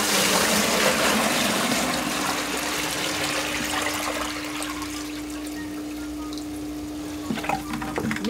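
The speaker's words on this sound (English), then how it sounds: "Pouring in the RO water like that also gives it a good mix when you put it in" RO water pours steadily into a bucket mixed with Sulawesi shrimp salts, a continuous gushing splash that slowly softens before a few brief knocks at the end.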